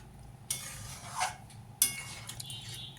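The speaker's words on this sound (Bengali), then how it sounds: "আমি একটু সামান্য অল্প করে জল দিয়ে দেবো, জল দিয়ে আর ঢাকা দিয়ে দেবো।" Pot of sautéed potatoes for Kashmiri dum aloo on the stove: a sharp clink of a metal lid set down, a brief splash of water, then another clattering lid knock, close and quiet.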